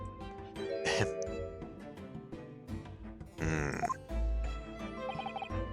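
A character in The Great Ace Attorney Chronicles, the head waiter of a Western-style restaurant, gives a few rough coughs and throat-clearing grunts over soft game background music.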